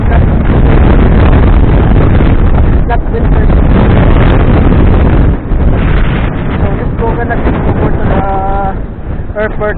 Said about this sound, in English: the speed is slowing is because because of this wind that I am having right now